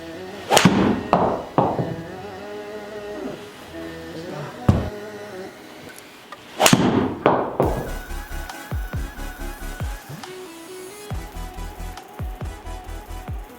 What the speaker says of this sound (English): that is 6 shots hit with the Tensei shaft that the 3 wood originally came in from Titleist